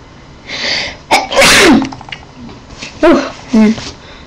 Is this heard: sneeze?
yes